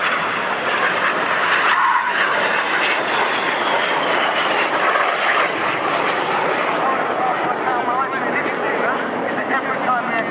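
Red Arrows jets roaring overhead through opposing 6G turns at the 2013 Swansea Airshow, a continuous loud engine rush that swells and fades slightly as they circle, with a voice talking over it.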